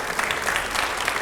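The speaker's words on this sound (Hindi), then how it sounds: "लेकिन जोरदार तालियां हो पहले।" Loud, steady applause from a studio audience at a televised Hindi talk show with BJP MP Ravi Kishan, dense clapping filling the short span without pause.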